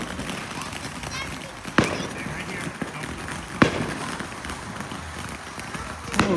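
Fireworks exploding, with three sharp distant bangs spaced a couple of seconds apart over a steady rustling background and people talking.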